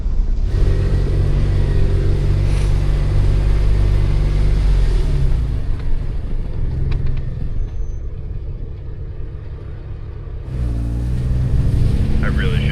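An off-road vehicle's engine drones loud and close as it crawls through late-season snow, a heavy low rumble with rising and easing revs that drops lower midway, then surges back to a strain near the end.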